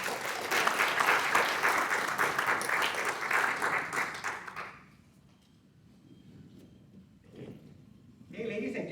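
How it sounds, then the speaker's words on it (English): Audience applause at an industry luncheon talk in a hotel ballroom, dense clapping for about five seconds, then dying to a quiet murmur before a voice resumes at the end. "let's give them a big round of applause"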